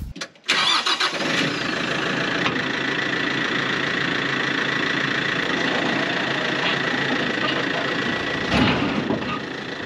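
A tractor engine idles steadily alongside a no-till drill on a farm food plot, a continuous loud rumble running throughout after a brief start.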